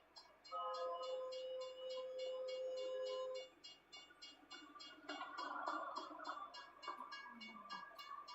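Amtrak train passing in The Sims 4 game, a sustained horn-like tone for a few seconds followed by rolling rail rumble and clatter, moderately loud with no voices.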